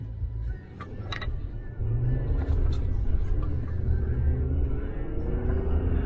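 Jeep Gladiator accelerating with a throttle controller set to its highest mapping, a deep engine and road rumble that swells after a brief lull and then holds steady, heard from inside the cab.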